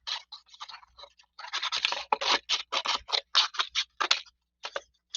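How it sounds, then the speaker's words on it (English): Scissors snip through craft paper, cutting a sheet in half for a pumpkin pie craft: a quick series of crisp, close cuts, sparse at first and then in a steadier rhythm. "So this is where we need our scissors. And what I'm going to do is I'm just going to cut it in half."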